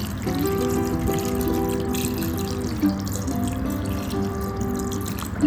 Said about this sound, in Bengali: আমি এর মধ্যে জল দিয়ে দেবো